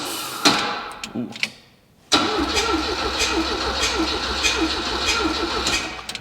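A few clicks and brief whirs, a short silence, then a Volvo P1800 engine, parked for 25 years, cranks on compression with no exhaust fitted, a rapid, rhythmic chugging that stays loud and open-sounding.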